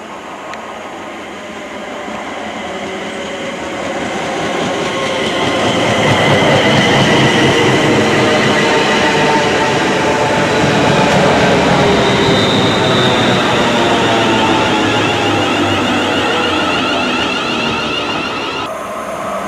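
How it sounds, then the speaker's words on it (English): A Turbostar diesel multiple unit passes through a Scottish Central Belt station, a loud rumbling and rushing roar that swells over several seconds, holds steady with faint rhythmic wheel clatter and high squeal, then eases slightly without fading away. "After that Turbo Star went through,"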